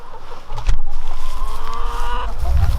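Backyard chickens clucking in a garden, a steady close chorus of short clucks with a deeper rumble late on, no talking.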